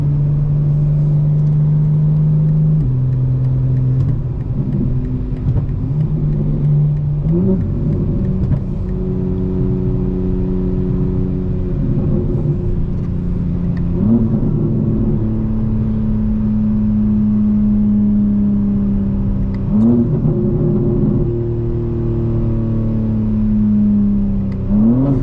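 A 2025 BMW M4 Competition xDrive engine heard from the cabin while downshifting and braking, a droning hum broken by repeated quick rev blips between gears, slowly settling lower.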